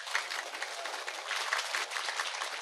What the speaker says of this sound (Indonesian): Tepuk tangan untuk Pak Polisi